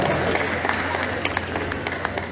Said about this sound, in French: Applaudissons très très fort pour les filles naturelles